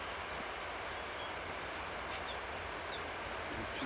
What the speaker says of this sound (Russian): Вот поезд.